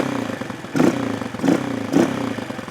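A Honda CRF230 motorcycle engine with the choke half on runs at a steady idle and is blipped three times, each rev rising sharply and then falling back, close and loud with no talking.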